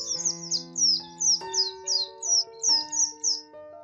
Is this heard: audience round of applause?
no